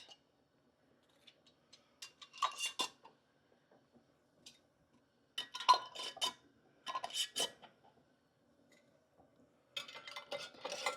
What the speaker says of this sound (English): we are going to screw our lid and our ring on fingertip tight